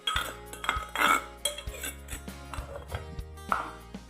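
A spoon scrapes and clinks against a mortar while scooping out pounded garlic and chili, with sharp ringing taps and scraping knocks repeating close up.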